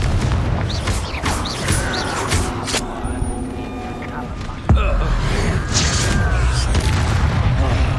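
Confringo fire spell explosions from Hogwarts Legacy land as deep booms inside dense, busy combat effects, with one sharp, loud burst about halfway through.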